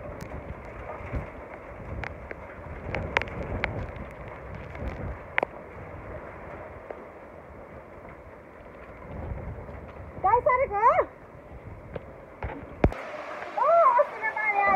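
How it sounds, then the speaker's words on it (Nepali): Hailstones clatter in scattered sharp taps and clicks over a constant windy hiss during a storm, with voices breaking in briefly near the end. "साथीहरू असिना पानी हेर्नु सक्नुहुन्छ"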